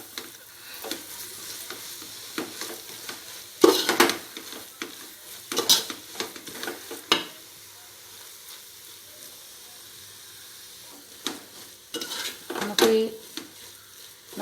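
Chicken pieces stirred and fried in biryani masala for a Kerala-style Thalappakkatti chicken biryani. A soft sizzle runs throughout, broken by several sharp bursts of stirring and scraping in the pan, with a voice speaking at times.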